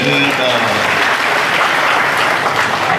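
Audience applause at a talk by Cak Nun, a loud, dense and steady wash of many hands clapping that fills the whole stretch, with crowd noise beneath.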